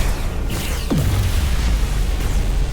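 Explosion in the Star Trek: Resurgence video game, a lithium-crystal blast: a single deep boom with a falling low rumble that trails off under steady background game noise, no talk.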